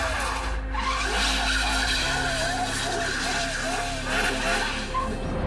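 Porsche Carrera GT, a carbon-bodied 612-horsepower supercar, driving hard with tires skidding and squealing, a loud sustained engine roar with chirping screeches throughout, under talk.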